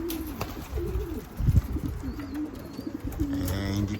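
A racing pigeon coos close by in soft, rolling low calls that repeat through the clip, with a brief thump partway through and a light background hum.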